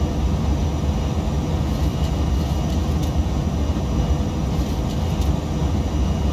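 Steady, loud engine roar of a Boeing 737-200 in a flight simulator game, a continuous low rumble with broadband hiss holding level throughout, with no voices.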